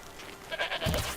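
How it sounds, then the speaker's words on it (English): A goat bleats in Horizon Zero Dawn: The Frozen Wilds, a short, fairly close bleat over quiet game ambience. "Is it a goat or a sheep? It's a goat."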